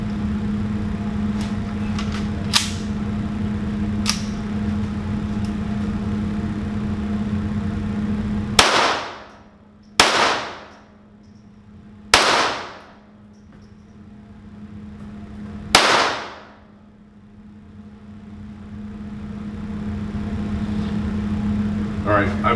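A Ruger Mark I pistol fires at a target 40 feet away at an outdoor range, with four sharp, loud reports spaced a couple of seconds apart. Each crack is followed by a short decay, and a steady hum and faint clicks come before the shots.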